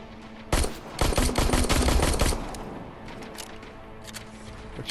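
Regular gunfire in the video game Terminator Resistance: a dense, loud burst of rapid automatic shots for about two seconds, then a few scattered quieter shots trailing off over background ambience.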